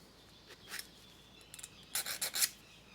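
A metal file rasps against a locomotive chassis part as it is eased for a snug fit on the crank pins; short scraping strokes come in scattered bursts, with a quick run of strokes near the end, close and fairly quiet.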